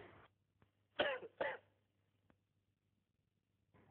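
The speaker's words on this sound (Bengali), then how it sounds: "ডেড বডি কাশি দিয়েছে নাকি?" Two sharp coughs in quick succession, close and fairly loud, with a brief throat sound before them and quiet around.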